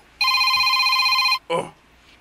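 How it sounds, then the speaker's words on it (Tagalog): A telephone rings with an incoming call: one sustained electronic ring followed by a brief second burst, loud and close, with a voice murmuring faintly in the background. "Uy, may nanawag man?"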